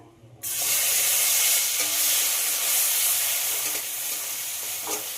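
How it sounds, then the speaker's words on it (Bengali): Onion paste is dropped into hot oil and starts frying at once, with a sudden loud burst of sizzling that then holds as a steady hiss. Faint stirring scrapes sound near the end; no one talks. "পেঁয়াজটা ভেজে নিতে হবে, খুব একটা পুড়িয়ে ভাজবো না"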